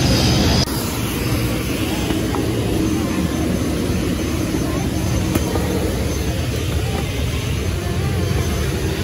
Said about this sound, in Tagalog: Ano ang sabi mong maliit na aeroplano?